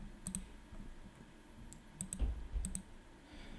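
A few sharp mouse clicks in a quiet room, spaced apart with soft handling noise between them, as OK is clicked in a Windows 10 dialog.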